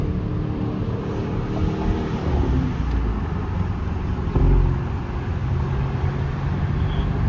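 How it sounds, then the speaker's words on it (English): Porsche exhaust during a club convoy drive, a steady low engine rumble heard from the moving car under constant wind buffeting, with no talking. "but I was trying to get the exhaust sound"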